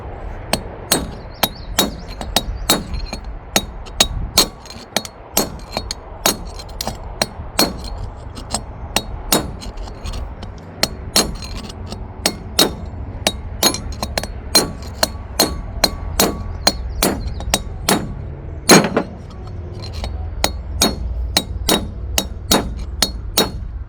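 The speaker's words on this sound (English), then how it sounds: "Okay, we'll use my smaller hammer." Small hammer knocking out an old wheel bearing from the inside of a trailer hub, outdoors in a field: dozens of sharp, ringing metallic strikes in a steady rhythm, close and loud, with no talk.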